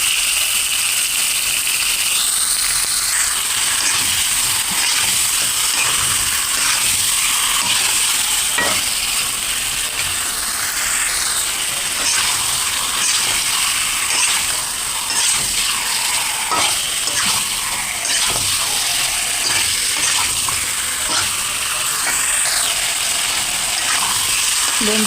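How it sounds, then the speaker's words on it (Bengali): Snakehead fish and tomato being fried and stirred in a pan for fish curry, with a steady broadband sizzle and scraping stirs running throughout, close and continuous. "এখন আমি ভালোভাবে কষে দেবো টমেটো আর দেবো মাছ"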